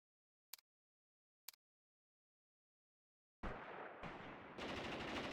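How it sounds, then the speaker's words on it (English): Two sharp isolated reports ring out in a quiet stretch, then a loud, dense burst of machine-gun fire in the war game Mius Front rattles on continuously and close to the end. "That is a good burst. That's how a machine gun burst should look."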